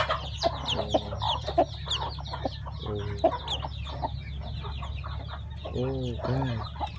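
A hen clucks near her chicks in a farmyard, repeated soft clucks and a few louder calls spread across the whole stretch, with faint chick peeps and background birds, while a person talks quietly at times.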